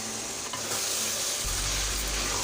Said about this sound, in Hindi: इसे भून लेंगे।